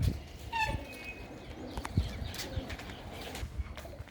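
Big breeding pigeons coo in a loft at a home in Manuke Gill, soft throaty calls repeating at close range among light rustling and a few faint chirps.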